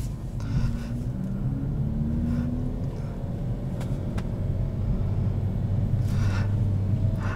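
A 2021 Kia Forte with a manual transmission rolls along in first gear, giving a steady low engine rumble and road noise heard from inside the cabin, with no talking.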